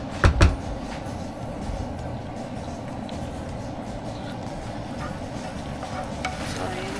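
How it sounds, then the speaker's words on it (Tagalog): Cooked noodles and shallots tossed in a pan give a steady, even sizzle with soft stirring scrapes underneath, opened by a pair of sharp knocks against the pan. "imimix na natin siya ngayon dito"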